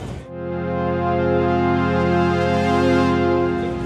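Sustained, rich chords from an Arturia PolyBrute 12 analog polyphonic synthesizer ring out with a warm, dense low-mid body and slowly shifting brightness, playing alone without any voices.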